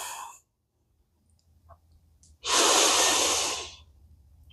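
Deep yoga breathing during a vinyasa flow: a short breath, a pause, then one long, loud, close exhale rushing out for well over a second before trailing off.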